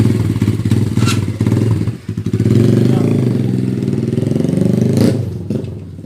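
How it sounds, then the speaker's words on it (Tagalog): A Keeway Euro 152 motorcycle, repaired after sitting a year in stock, idles loudly and close by with a steady throbbing chug that briefly dips before settling back. "Okay na yung motor niya oh."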